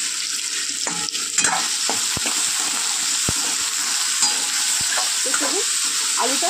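Potatoes frying in a pan for Bengali cholar dal, a steady close sizzle running throughout with occasional stirring clicks and scrapes.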